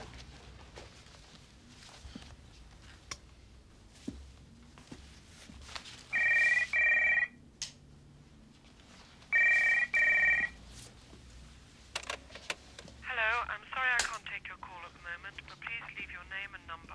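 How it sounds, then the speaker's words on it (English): Old-style telephone bell ringing in two loud bursts with a pause between, then a softer electronic ring, with faint room noise and footsteps around it. "I'm phoning Tennison"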